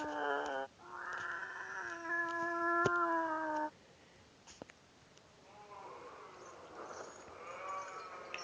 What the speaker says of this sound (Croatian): Ovo mi sliči kao stara mačka.